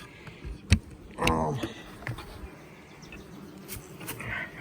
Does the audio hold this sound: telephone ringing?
no